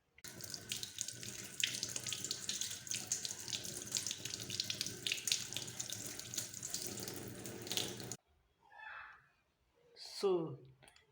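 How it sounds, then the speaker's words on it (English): Running tap water splashing into a sink while an orange is washed, a steady close rush for about eight seconds, then stopping, followed by faint brief noises and a short voiced sound. "you wash the orange well."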